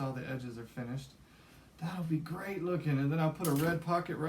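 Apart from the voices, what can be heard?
No everyday noises stand out.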